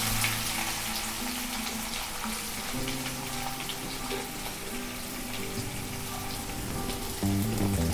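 Chopped onion, with fine ginger pieces, sizzling in hot oil for a school tiffin dish; a steady broadband fry-hiss runs throughout alongside low background hum, with no voices.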